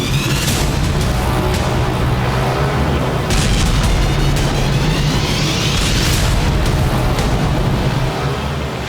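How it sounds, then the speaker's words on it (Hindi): Heavy bombing explosions from a large-scale military attack on cities, heard as a continuous loud rumble with repeated booming bursts and crackling throughout, dense and unbroken with no speech. "इस ऑपरेशन के तहत ज़ेलेंस्की की सेना ने रूस के 12 शहरों में एक साथ जबरदस्त बमबारी"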